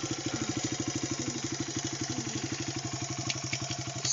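A Honda motorcycle engine idles close by in Montana, a steady rapid low thumping pulse that holds even throughout, with a few faint clicks near the end.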